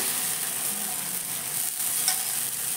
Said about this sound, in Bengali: তারপরে এখান থেকে আমি কিছুটা ব্যাটার এর মধ্যে দিয়ে দিলাম।